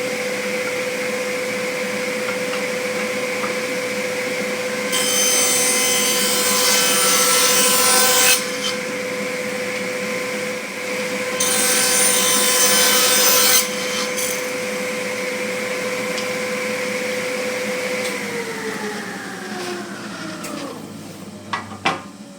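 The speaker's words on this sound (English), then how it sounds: "I'm going to go ahead and turn on the dust collector and the saw" A saw cuts through a mahogany box to split off the lid while a dust collector drones steadily underneath, two long bursts of rough, loud cutting standing out over the constant hum, which winds down near the end.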